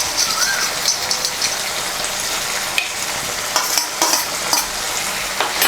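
Crushed fried lentil dumplings and slit green chillies are stirred into a bitter gourd curry in a pan, giving a close, steady sizzle with repeated spoon scrapes and clacks against the metal.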